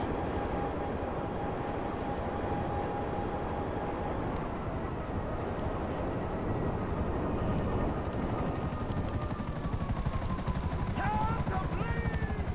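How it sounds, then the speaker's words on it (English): Helicopters in the GTA Online video game give off a steady, loud rotor thrum over twelve seconds, mixed with other game noise and some voice. "But we do have 4 choppers that we'll need to get rid of."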